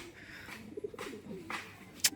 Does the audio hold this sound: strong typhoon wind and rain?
no